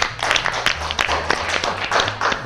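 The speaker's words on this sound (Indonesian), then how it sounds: "tepuk tangan dulu" A small group claps their hands on a business talk show about a snack brand, a quick run of close, sharp claps that continues steadily for a couple of seconds.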